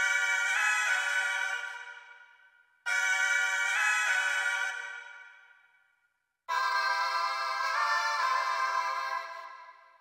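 A tonal sampled sound plays in a Reason Mimic sampler set to tape stretch mode, three bright sustained bursts with a pitch-shifting wobble, each fading away before the next begins.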